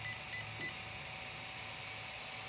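An RC car's electronic speed controller, from an Arrma Kraton 8s or Losi DBXL-E 2.0, gives three short high electronic beeps in quick succession during programming, then falls quiet over a low hum.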